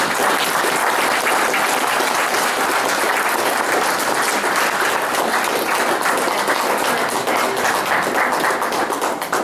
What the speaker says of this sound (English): I think we owe Alice a hand of applause